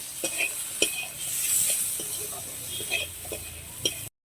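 Tomato and spice masala with chili powder being stirred and fried in a pan for chicken cutlets, with a soft steady sizzle and repeated scraping strokes of a spoon close by, no voices.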